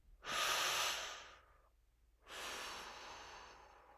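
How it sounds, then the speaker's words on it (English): Two long, deep breaths during a guided breathing exercise: a strong airy inhale through the mouth, a brief pause, then a slow, steady exhale, close and clear with no talk over them. "breathing in through the mouth and out"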